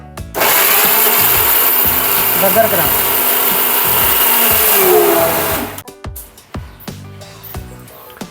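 A mixer grinder whirs loudly and steadily while grinding ginger, shallots and green chillies, running for about five seconds before cutting off, followed by clattering and a brief spoken line.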